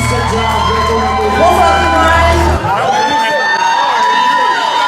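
A live concert crowd at a 2019 show cheers and whoops loudly, a dense wash of shouting voices over a low tone that cuts out midway.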